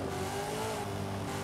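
A car drifting with the handbrake pulled in the Forza racing video game, a steady loud engine whine with a faint tire-squeal tone running underneath, no voices.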